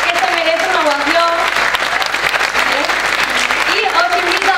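A conference audience gives a loud, sustained ovation, a thick roar of clapping throughout, with someone speaking over it at the presentation of a geopolitics event.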